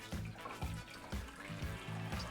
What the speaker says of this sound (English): I'm pouring the soup back in